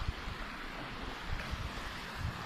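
Puuskankoski river rapids near Mäntyharju in winter pour in a steady, dense, broadband rush of water that never lets up. Low rumbling surges swell and fade beneath the roar, and no voices are heard.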